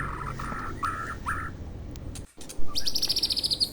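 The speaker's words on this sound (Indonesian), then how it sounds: "meskipun burung murai terkenal, suaranya yang merdu" An oriental magpie-robin (murai batu) sings a few short bright phrases, then a fast rhythmic series of high repeated notes rings out near and clear over a steady background hiss.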